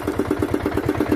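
The engine of a small fishing boat idles off San Pascual, running at risk of stalling. It makes a steady, rapid chugging pulse, close and even, with no talk over it.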